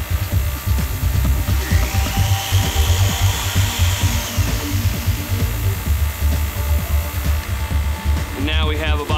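Power tool grinding a through tap flat to convert it into a bottoming tap, a steady buzzing motor whine with a rising high-pitched scrape as the metal is ground, continuing loudly throughout.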